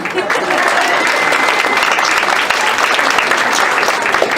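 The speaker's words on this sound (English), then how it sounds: "That's where you get the clapping." Audience at a school board meeting applauding a record-setting high school basketball team, loud dense clapping from a crowd that holds steady throughout.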